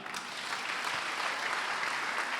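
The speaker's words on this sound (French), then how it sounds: "Merci, on les acclame." An audience at a French-speaking church service bursts into dense, continuous applause that stays full and loud throughout the short stretch, with no voices heard over it.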